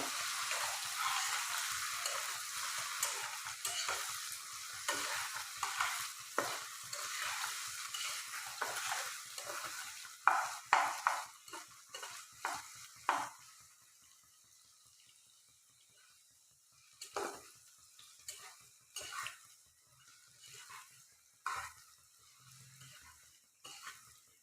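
Laihak greens frying in a pan, a loud continuous sizzle with stirring scrapes that gradually dies down, leaving quieter intermittent clatters and scraping toward the end.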